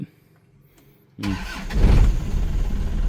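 A 1995 Isuzu TFR pickup with a manual gearbox cranks briefly and fires up almost at once, after about a second of quiet. It settles into a loud, close, rumbling idle with a slight rev.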